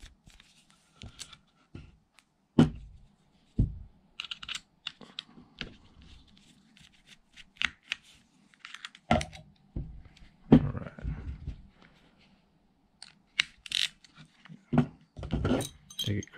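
Small metal screws being turned out of an Okuma Convector CV30D fishing reel, giving sparse clicks and light metallic taps with brief scraping, close up and quiet with long pauses between.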